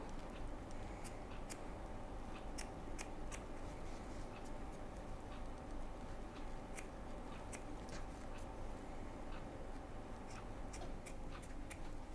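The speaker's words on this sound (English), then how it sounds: "trim the fleece out of that seam allowance as well, just to help reduce bulk" Scissors snip fleece out of a bag flap's seam allowance, making a series of faint, close, crisp clicking snips at an irregular pace over a low steady background hiss.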